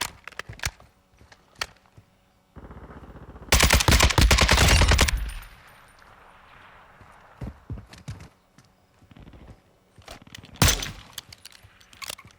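AK-103 rifle fire in Call of Duty Modern Warfare II: sharp single shots, then a loud sustained automatic burst lasting a couple of seconds, followed by scattered shots and clicks.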